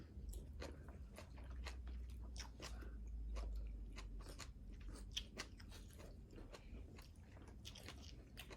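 Someone chews food close to the mic, a run of crisp crunching bites and wet mastication repeating steadily for several seconds, with no talking.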